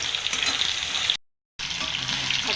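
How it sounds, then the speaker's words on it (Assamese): Ground onion, whole spices and cumin paste fry in a pan, giving a loud, dense, crackling sizzle that cuts out briefly and then resumes. "আৰু পিঁয়াজ গোটা মছলা জিৰা এইবোৰ পিচি লোৱাখিনি এতিয়া দি দিলোঁ এতিয়া অকণমান ভাজি আছোঁ"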